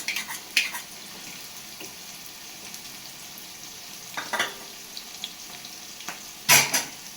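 Garlic dropped into half-sautéed onions fries with a steady low sizzle, broken by a few brief scraping stirs and one louder clatter near the end; no one speaks.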